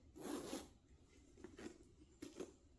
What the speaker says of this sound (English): Zipper closure.